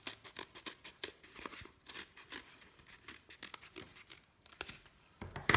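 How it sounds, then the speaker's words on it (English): Scissors snip around the edge of several stacked layers of paper, making a run of quick, crisp cuts close by and alone, with a louder crunch near the end. "So all we do is take our scissors and we just snip all the way around."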